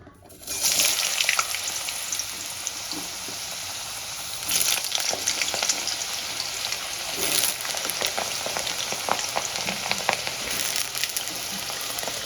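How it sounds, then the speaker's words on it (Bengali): Washed, cut potatoes frying in hot oil for an aloo begun sabji, a loud, dense crackling sizzle that starts abruptly and stays steady, with brief bursts of sharper spitting. "এবার আমি আলুগুলোকে লাল লাল করে ভেজে তুলে নেব।"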